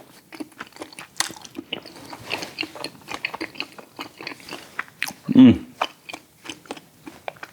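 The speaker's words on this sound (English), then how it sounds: "Sticky texture, and then the crunch of those, of the fig inside." Crunchy, sticky chewing of vegan nian gao with fig pieces inside, close and intermittent, with small bites and one louder crunch amid quiet mouth sounds.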